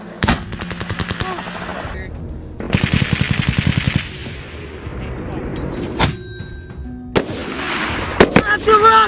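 Rapid bursts of automatic gunfire and single heavy shots crack out after a shouted firing command in a combat zone, several loud volleys separated by brief gaps with distant rumbling and shouting voices.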